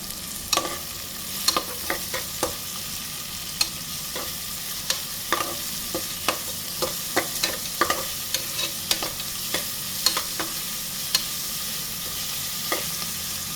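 Sliced onions sauté with a pinch of rock salt in a pan for white chicken gravy. A steady close sizzle runs throughout, broken by sharp, regular scrapes and clicks of a spoon stirring against the metal. No one speaks.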